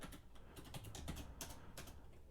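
Rapid keystrokes clatter on a computer keyboard, a steady run of sharp clicks in quick irregular bursts, close and alone with no voices.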